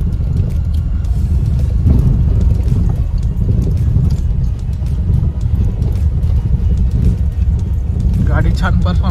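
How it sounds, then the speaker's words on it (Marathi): Front-wheel-drive car driving along a road, a steady loud low rumble of engine and tyres with wind buffeting the microphone throughout, no speech. "गाडी छान परफॉर्मन्स देते"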